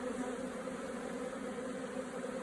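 Steady, dense buzzing of many honey bees close by at an apiary's nucleus hives, continuous and unbroken with no voices.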